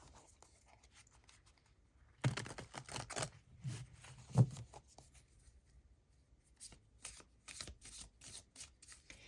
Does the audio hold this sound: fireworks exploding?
no